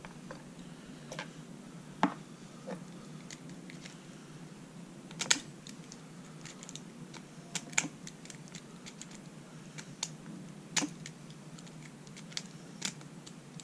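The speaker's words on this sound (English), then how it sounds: "Zipping is another low scale attack that's just as fast getting into the lock as it is using the key." A lock being opened by zipping, a fast low-skill picking attack: scattered sharp metallic ticks and clicks with a few louder snaps, sounding close and alone against a quiet background.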